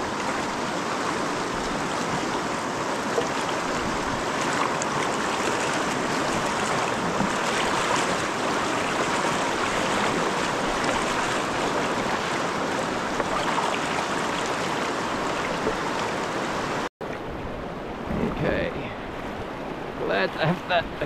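Fast-flowing alpine stream during a bikepacking river crossing, a loud continuous rushing of water with wind buffeting the microphone, which cuts out near the end before splashing resumes.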